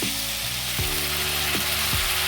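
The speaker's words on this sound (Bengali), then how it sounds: "এরপরে কুচনো আলুগুলো একটু নুন দিয়ে ভাজতে থাকবো, একটু সামান্য ভাজবো।" Diced potatoes frying in oil with ginger-cumin paste give a continuous, close hissing sizzle over a faint mechanical hum that shifts in pitch.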